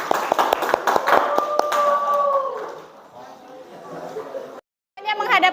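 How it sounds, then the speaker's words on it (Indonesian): A classroom of students claps for a student group during a supervised lesson, a burst of sharp close hand claps over the first two seconds that fades into murmuring and chatter. "beri tepuk tangan untuk kelompoknya Fadli dan Fadli"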